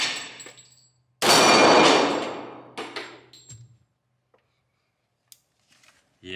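A .40-caliber Beretta 96 Brigadier Border Marshal pistol round strikes a steel target with a loud ringing clang that decays over a couple of seconds, followed by a few fainter metallic knocks and clinks.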